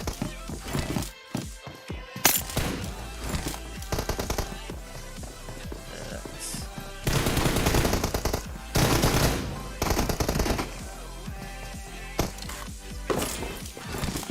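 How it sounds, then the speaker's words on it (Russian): Automatic gunfire in the mobile battle game PUBG Mobile during a team deathmatch tournament, with rapid bursts of shots, some long sustained volleys, close and loud, interspersed with shorter pops and clicks. "Так, Белой у нас стрелял"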